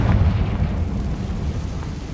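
A Confringo fire spell explodes in Hogwarts Legacy as a steady, low, roaring rumble lasting about two seconds, with no sharp onset.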